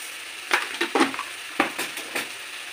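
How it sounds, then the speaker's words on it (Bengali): Spice paste with ground coriander, chilli powder and sugar frying in a pan, with short crackling sizzles and stirring scrapes in several uneven bursts, close and moderately loud, no talking. "একটুখানি জল দিয়ে মশলাটা আমি কষিয়ে নেব।"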